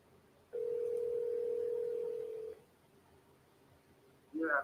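A telephone tone sounds while a call waits to be answered: one steady tone lasting about two seconds, followed by a short pause and then a brief burst of another sound at the end.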